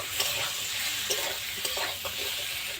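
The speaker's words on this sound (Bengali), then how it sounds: "দিয়ে দেবো কাঁচা লঙ্কা চেরা আর দিয়ে দেবো মটরশুঁটি দিয়ে একটু নাড়াচাড়া করে নেব" Slit green chillies and peas stir-fry in a hot pan, giving a steady close sizzle with a few light scraping stirs over it and no talk.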